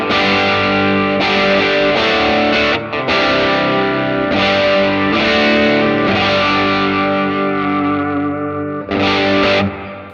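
An electric guitar on its bridge pickup runs through an HX Stomp Litigator preset with a Mail Order Twin amp, giving gritty overdrive. Loud, sustained distorted chords ring continuously and change every second or two, with no talking.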